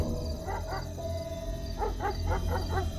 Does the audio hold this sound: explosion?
no